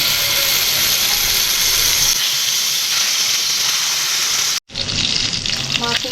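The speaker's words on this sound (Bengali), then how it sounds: "তেল গরম হয়ে গেছে, এখন মাছগুলো দিয়ে দেব।" Fish pieces frying in hot oil in a frying pan, a loud close hiss and sizzle that holds steady, breaks off for a moment, then resumes with popping crackles.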